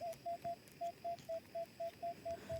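A metal detector gives its signal tone during treasure hunting in an old village: about eleven short, steady beeps in an even pulsing rhythm, clear and close with no speech.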